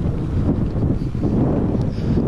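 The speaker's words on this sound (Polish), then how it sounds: "lekki wiatr." Steady low rumble of light wind buffeting the microphone on a sunny, roughly 20-degree day by Issyk-Kul lake in Kyrgyzstan, constant throughout with no voices.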